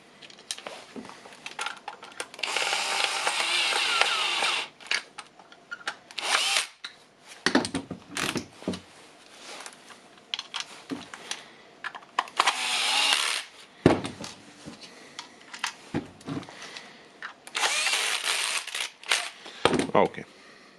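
Power screwdriver driving screws to close a Makita battery pack: short whirring bursts start and stop repeatedly, close by, with handling clatter and a voice talking between them.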